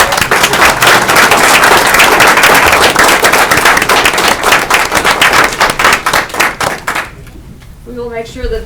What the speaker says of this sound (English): Let's give a round of applause to all these students.